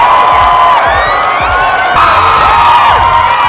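Dense crowd at a pop concert cheering and shouting as the star singer steps out of her car, a loud continuous roar of many voices with whoops and children's shrieks throughout.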